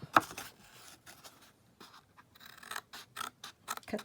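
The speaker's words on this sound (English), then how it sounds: "you can cut a little wedge off of this side panel and here" Scissors or a blade cut a small wedge from the side panel of a homemade Valentine's Day mailbox treat holder, giving a run of short, dry snipping and scratching strokes close up with brief pauses between.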